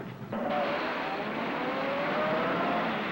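A car engine drones steadily nearby, a continuous motor hum with a faint rising whine as the vehicle drives on, heard alone without talk.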